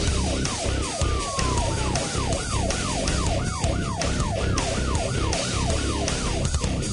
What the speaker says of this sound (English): Probably 4 Tyler Police Department patrol cars running lights and sirens